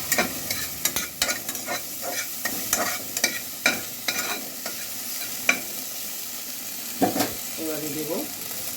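Garlic and ginger sizzling in a little mustard oil for a mutton stew, a steady frying hiss punctuated by regular scraping clacks of a spatula stirring the pan.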